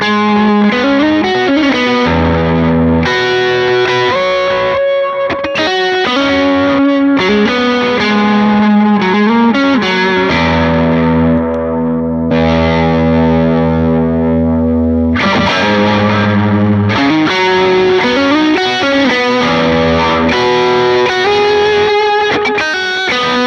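Electric guitar lead lines pushed through an Archer overdrive pedal used as a solo boost, a loud, continuous, driven and sustaining tone with bends and held notes, no voices over it.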